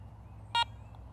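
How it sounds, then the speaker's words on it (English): The ACE 400i metal detector gives a single short electronic beep as its power button is pressed, a clear tonal blip alone over a faint low background hum. "press the power button and hold for about 1 second until you hear that second beep"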